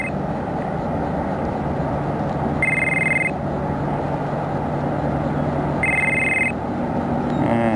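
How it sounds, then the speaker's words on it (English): Mobile phone ringing twice in short electronic bursts outdoors at a camp by the water in Mobile, Alabama, over steady loud wind and engine-like background rumble. "See, my phone's ringing."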